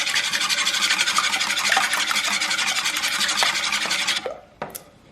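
Whisk scraping and beating egg yolks in a bowl, a fast continuous close rattle that stops abruptly near the end, followed by a couple of faint clinks.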